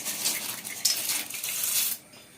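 Dried rice ada flakes for ada pradhaman tumble into a metal cooking pot, a close run of light rattling clatters and taps for about two seconds that then falls quiet.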